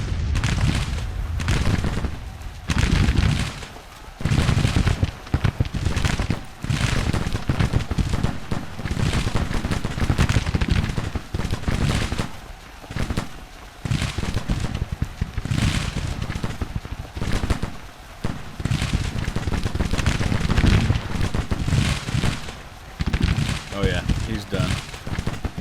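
Artillery batteries fire in a Civil War battle in the strategy game Grand Tactician, producing repeated deep booms and rumbling blasts over ongoing musket crackle, with someone talking over the din throughout.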